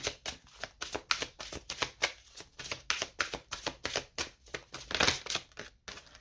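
Tarot cards being shuffled and drawn by hand, a dense run of crisp riffling card flicks and slaps in quick rhythm, close and fairly loud, with no talking.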